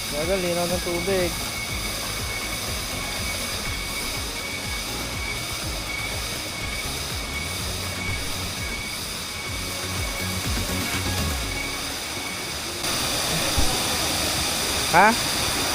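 Limutan waterfall in Bataan roaring, a constant broadband rush of falling water heard up close with some faint low voices underneath.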